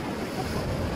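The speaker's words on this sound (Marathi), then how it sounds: "आणि हा अरबी समुद्राच्या लाटा बघा" Arabian Sea waves wash onto the shore at Dwarka, Gujarat, a continuous close roar of surf mixed with wind buffeting the microphone, no voices.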